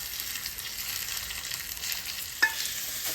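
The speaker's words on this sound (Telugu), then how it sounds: "ఇదిగోండి మన పోపు తాలింపు వేగుతుంది" Steady, soft sizzling of a spice tempering with curry leaves and dried red chillies frying in hot oil, a continuous hiss with one brief sharp pop near the end.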